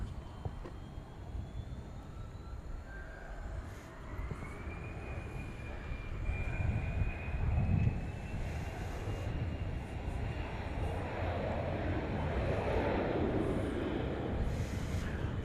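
An American Airlines jet departs from DFW Airport at night with a distant, rising engine roar and a faint whining tone that build over several seconds and then hold as a steady rumble.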